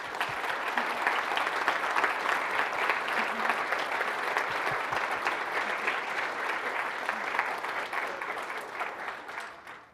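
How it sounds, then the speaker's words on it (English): A conference audience at DjangoCon US 2017 gives a sustained round of applause for the speakers, dense steady clapping from a large crowd that fades out at the end. "So please join me in giving a round of applause to them"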